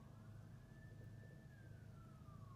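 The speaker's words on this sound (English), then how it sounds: "Lots of sirens out there." Emergency vehicle sirens wail outside a window, a single rising and falling tone sweeping steadily over a loud, rumbling low-frequency background, moderately distant with no talking.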